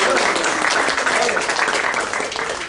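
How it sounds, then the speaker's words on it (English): An audience at a talk gives a big round of applause, a dense, steady roar of clapping that begins to taper off toward the end. "Give yourself another big hand of applause."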